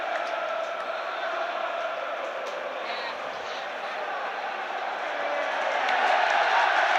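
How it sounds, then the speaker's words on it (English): A football crowd cheers at an Albion stadium after a goal goes over the line. The broad, roaring wash of many voices holds steady, then swells louder toward the end. "And the crowd cheer once more, seeing it on the big screen"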